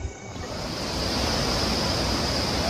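Steady rushing of water at Ambad Ganga on the route to Vaishno Devi, a broad continuous wash of flow that swells slightly and holds loud and close throughout, with no voices.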